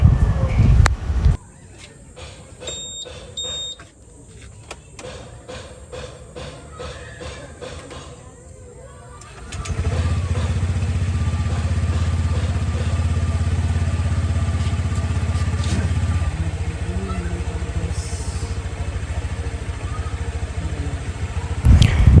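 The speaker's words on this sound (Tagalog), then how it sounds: "para marinig natin kung okay na ulit yung hagod ng ating motor" A Honda Click motor scooter engine starts up after an oil change and runs steadily at a low, constant idle for several seconds, fairly close and loud, with light clatter at the start.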